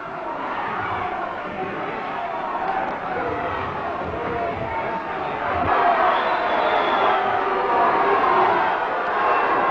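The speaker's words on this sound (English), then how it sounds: "spectators crowd into the City Hall building as picketers continue to demonstrate outside the building" A large crowd of spectators and picketers at a 1950s-era City Hall hearing produces a dense, continuous murmur of voices and shouts, steady and moderately loud with occasional louder swells.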